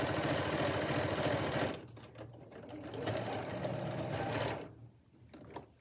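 Sewing machine stitching down an apron pocket, a close, steady whirring hum in two runs separated by a brief slowdown, ending with a quieter pause and a few clicks.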